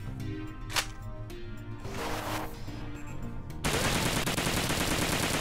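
Bursts of video-game gunfire crackle amid layered game sounds, building into a dense, sustained barrage of rapid shots toward the end.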